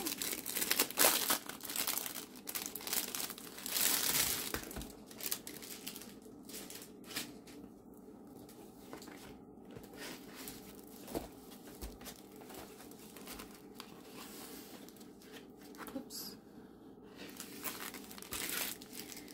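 Thin plastic packaging from a diamond painting kit crinkles and rustles close by during unboxing, in bursts of irregular crackling handling that are busier at first, then sparser and quieter, with no voices.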